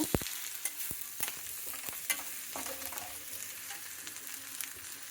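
Chili powder frying in a pan for sabudana khichdi gives a faint, steady sizzle with soft scattered clicks of stirring, quiet and unaccompanied by talk.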